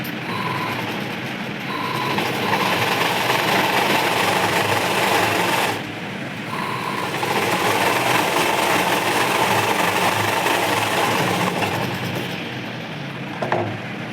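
A sewing machine stitches cloth in a steady, close, continuous mechanical whir. The motor briefly drops out around the middle, then resumes at the same even pace. No one speaks.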